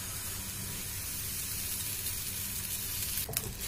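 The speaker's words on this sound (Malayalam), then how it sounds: "ഇതിലേക്ക് ഒരു കയ്യില് മാവ് ഒഴിച്ചു കൊടുക്കാം." Appam batter poured into a hot pan, giving a steady, soft sizzle throughout with a brief burst of brighter crackle near the end; no one speaks.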